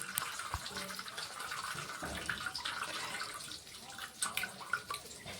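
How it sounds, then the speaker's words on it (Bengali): Cooking water from boiled cabbage and potatoes is poured into another bowl, a faint continuous splashing trickle with a few louder sloshes. "এই দেখুন জলটা আমি ফেলে দিচ্ছি একটা অন্য বাটিতে।"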